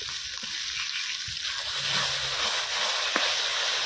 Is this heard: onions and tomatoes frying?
yes